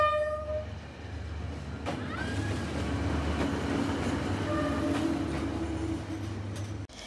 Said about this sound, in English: where the train comes so close